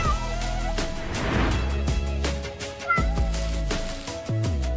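A kitten rescued as a stray meows several times, its drawn-out cries rising and falling over loud background music, close and clear.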